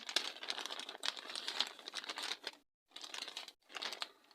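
Plastic zip bag holding gloxinia leaves crinkles and rustles in continuous close-up bursts, with a brief silent pause before two more crinkling passages.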